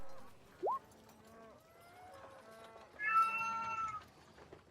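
A cat meows faintly indoors, first with a short rising cry and then with a longer, higher meow a few seconds later, set against quiet room tone.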